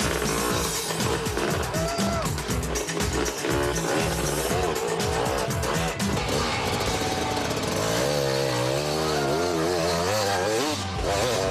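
A big four-stroke Honda CR450R motocross bike races at an extreme enduro event in Texas, its engine revving hard and loud with rapid throttle surges and rising pitch sweeps, close and continuous amid other bikes.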